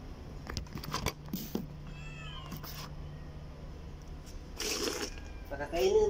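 Several cats meowing near a person, short rising meows scattered through the scene among shuffling and handling noises, with a few louder cries toward the end.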